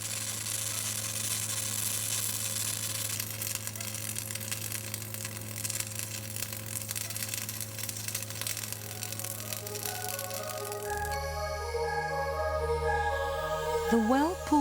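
Arc welding with welding wire melting into base metal: a continuous crackling sizzle of the weld pool holds steady and fairly loud, then shifts to a harsher, more irregular sputter near the end, with no voices.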